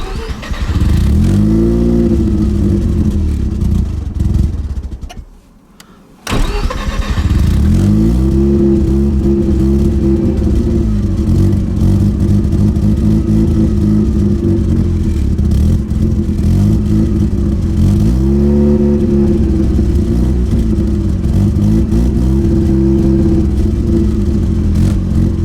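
A Mazda RX-7 FC rotary engine runs rough and lumpy, struggling to hold idle with uneven revving surges, loud and close; it cuts out briefly for about a second before catching again and carrying on unsteadily.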